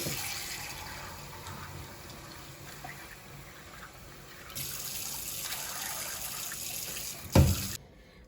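Tap water running and swirling as beans are rinsed in a pot, a steady close hiss that swells midway, then ends with a few loud sloshing knocks.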